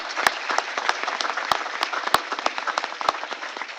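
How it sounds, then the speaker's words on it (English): Audience applause at a small business event in Boston, scattered close hand claps with sharp individual slaps standing out over a dense round of clapping. "One last round of applause for everyone that participated and helped out"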